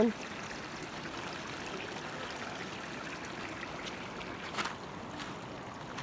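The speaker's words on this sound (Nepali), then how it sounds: "ठुलै पानी आइरहेको छ" The Sangdi river in a Gorkha, Nepal village runs strongly, giving a steady, unbroken rushing wash of water that stays fairly faint and even throughout, with no voices over it.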